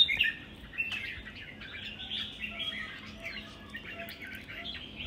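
A caged songbird sings nearby in bright chirps, trills and squawky notes, repeated in lively bursts over faint low background hum, with no talking.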